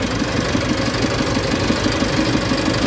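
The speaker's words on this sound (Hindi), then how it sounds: "ये जो हमारा इंजन है वो स्टार्ट हो गया है और उसकी आवाज़ भी अच्छी है।" An Eicher E494 tractor's diesel engine idles steadily after being started following injector fitting, producing a loud, continuous knocking chug with an even rhythm and no talk.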